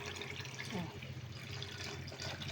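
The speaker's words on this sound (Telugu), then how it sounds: "నేను ఆ వాటర్ వేస్తున్నాను." Water pours steadily into a cooking pot for tomato pulao, a continuous splashing rush that lasts the whole stretch without pause.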